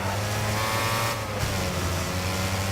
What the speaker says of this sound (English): Sounds a little bit more like a vacuum cleaner, though. Especially once you get those RPMs revved up too high.